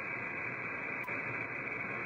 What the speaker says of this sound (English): Now here's with no signals, so you can see the difference to noise.